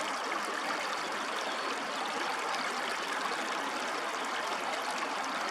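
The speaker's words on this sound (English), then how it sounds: "I had to stop and just enjoy the sounds of the creeks." Creek water flows outdoors in a steady, dense rush and babble, close and continuous with no other sounds over it.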